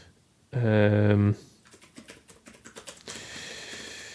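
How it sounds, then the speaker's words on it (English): Computer keyboard keys tapped in quick irregular bursts after a sustained tonal sound, close and clear with no talk over the typing. "Once again, typing it out, don't know why,"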